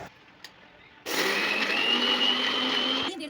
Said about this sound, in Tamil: இப்போ 2ஆ பிரித்து அரைச்சி எடுத்துக்கலாம்